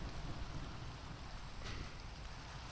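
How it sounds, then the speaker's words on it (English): Steady rain falling in a medieval-style building video game, a continuous broadband hiss of even intensity heard alone with no voices. "By the way, it's raining again."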